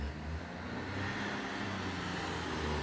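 A car passing by at night near a playground: a steady low engine and tyre rumble that stays fairly constant, moderately close, with no voices over it.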